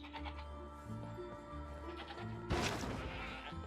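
Goat with a horn stuck, bleating in the video game Trine 4: several wavering bleats over game music, followed by a sharp thump near the end.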